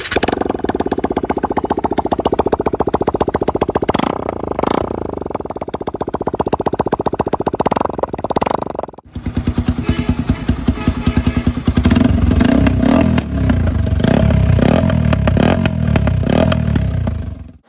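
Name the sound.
motorcycle engine running without exhaust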